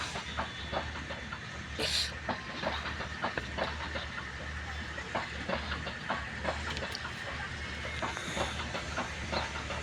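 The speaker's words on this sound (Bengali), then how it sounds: "সকলে দাঁড়ায়া দেখছি রেল যাইতেছে" A passenger train on the line toward Sabroom rolls past with a rhythmic clickety-clack of wheels over rail joints, a continuous rumble beneath steady hiss, heard from trackside at moderate distance with no talk.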